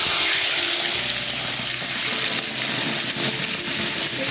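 Chili and garlic paste with cabbage hitting hot oil, giving a loud, steady, broadband sizzle that runs continuously from start to finish with no voices over it.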